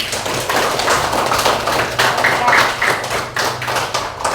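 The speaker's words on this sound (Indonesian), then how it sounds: "Tepuk tangan buat temannya, nak." Students in a classroom clap for a classmate after an answer, a loud, uneven patter of hands with some thumpy taps, close by.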